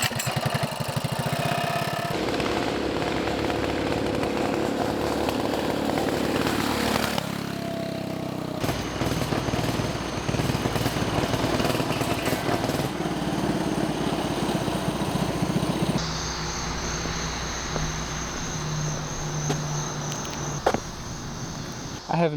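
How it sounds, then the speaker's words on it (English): A modified mini bike engine runs continuously while the bike rides around, giving a buzzy, droning small-engine note that shifts in pitch as it moves, with no clear speech. "let me kind of show you the bike ripping around."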